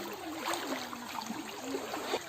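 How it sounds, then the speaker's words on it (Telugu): A stream flows over rocks in hilly country near a waterfall, giving a steady, close rushing wash of water that runs unbroken throughout. "నీళ్ళు ఎంత బాగా వస్తున్నాయి"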